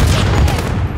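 Dense, continuous burst of gunfire from the Call of Duty: Modern Warfare video game, loud and close, with overlapping rapid shots and heavy low booms filling the whole second, no talk over it.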